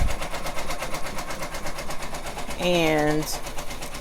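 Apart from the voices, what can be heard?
sewing machine stitching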